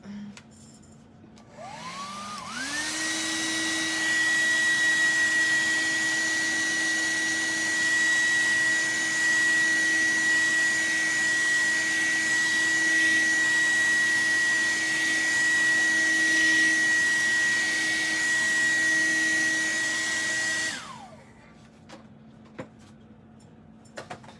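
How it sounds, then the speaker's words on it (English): A blow dryer whirs up while drying paint on a gingerbread sign, runs steadily and loudly with a high whine for about eighteen seconds, then winds down and stops. "let me hit this with my blow dryer"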